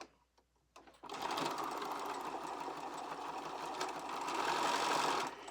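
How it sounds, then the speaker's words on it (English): A sewing machine stitches a seam along the edge of a quilt block, starting after a few soft handling clicks into a steady, close, continuous mechanical whir that runs to the end. "we're ready to stitch this seam going along this edge of the block"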